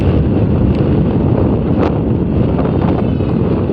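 Steady, loud wind roar buffeting the microphone while riding a motorcycle on a cold road, continuous and unbroken with no talking.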